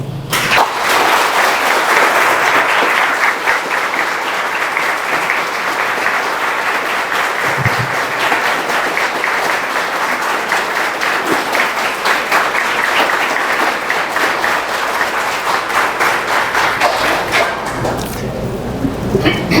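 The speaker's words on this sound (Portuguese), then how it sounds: "Eu quero que eles ouçam a maior salva de palmas que já foi dada aqui." A large audience at an in-person Spiritist lecture breaks into a big, sustained round of applause, dense clapping that holds steady and loud for nearly twenty seconds before tapering slightly at the end.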